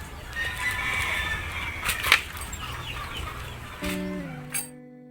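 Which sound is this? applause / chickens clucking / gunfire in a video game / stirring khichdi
chickens clucking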